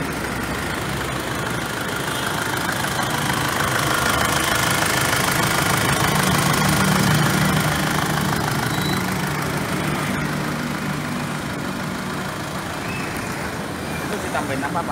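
A 2004 Isuzu Panther 2.5 diesel engine fitted with an HHO fuel saver idles close by, a steady knocking clatter that holds for the whole stretch, with voices talking faintly over it.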